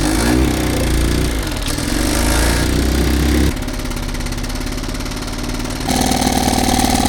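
A 1957 Sea King 5hp outboard motor runs loud and steady throughout, its idle shifting pitch and rhythm a few times as it is tuned, with no talking.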